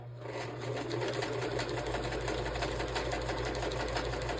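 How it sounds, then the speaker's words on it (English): A sewing machine stitching fabric runs at a steady, fast, even hum with a rapid needle rhythm. It starts quietly, then holds loud and close throughout. "let me move this basket out so that I can sew continuously without it hitting the basket"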